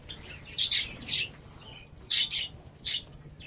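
Java sparrows give four short, bright chirps in two pairs, close by, over quiet background hum.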